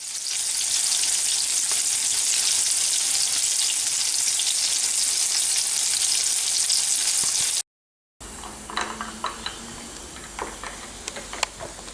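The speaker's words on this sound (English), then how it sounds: "So the last thing to do is obviously just fry them up and get ready to eat." Homemade Thai-inspired pork sausages fry in a pan with a loud, steady hissing sizzle that runs unbroken, then after a brief cut continues more softly with scattered pops and spatters, close by with no talking.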